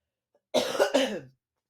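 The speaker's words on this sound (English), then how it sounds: "Sorry for my cough." A single short cough, close and fairly loud, with two quick bursts that trail off, in an otherwise quiet room.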